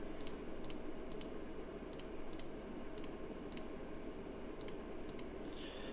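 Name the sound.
mouse clicks and keyboard presses selecting files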